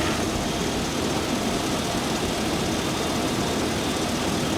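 Chevy truck with its AC compressor running while the engine idles: a dense, steady mechanical whir and hum with no breaks, close and fairly loud, and no one speaking.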